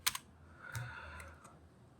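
A few quick computer keyboard keystrokes tap out a short search term, isolated clicks spaced across a quiet moment with no talking.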